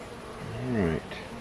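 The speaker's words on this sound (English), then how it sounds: "This thing is really packed with bees" Honey bees in an opened hive, a close buzzing drone that swells and rises in pitch for a moment as a bee passes near, over a soft background hum.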